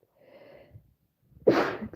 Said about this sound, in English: She doesn't like it when I sneeze.